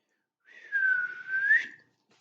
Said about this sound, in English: Can you whistle? I can whistle